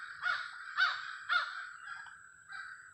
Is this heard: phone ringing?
no